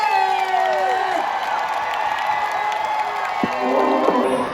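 A DragCon 2022 crowd cheers and applauds for drag queen Joey Jay, a steady wash of whoops and clapping heard alongside tonal, music-like sound throughout the short stretch.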